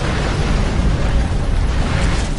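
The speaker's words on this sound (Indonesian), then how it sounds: "kapal perang Jupongatana meledak dan terbakar di tengah laut" Warship Jupongatana exploding and burning at sea, a loud, dense, continuous roaring rumble with heavy low-end booming and crackling texture throughout, no voices present.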